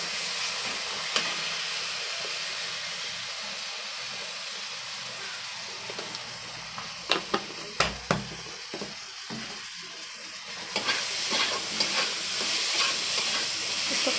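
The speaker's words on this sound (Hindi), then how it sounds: "ये जब फ्राई होगा ना तो कलर आ जाएगा" Jackfruit curry, Bihari-style kathal ki sabji with small green chillies, frying in a pan with oil: a steady close sizzle and hiss, broken by a few sharp scrapes and clacks of stirring, and louder frying toward the end.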